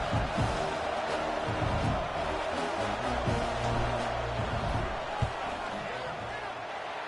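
A large stadium crowd at a college football game roars with sustained, dense noise during a fourth-down field goal attempt, with a broadcast announcer talking over it.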